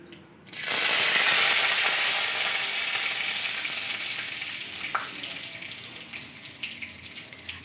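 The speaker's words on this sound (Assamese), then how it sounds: "তেল গৰম হৈছে আৰু এতিয়া ইয়াত অলপমান কালজিৰা দিম, তাৰপিছত দুটা শুকান জলকীয়া" Nigella seeds and two dried chillies hit hot oil with a sudden loud burst of sizzling that settles into a steady, slowly fading crackle, with no voices over it.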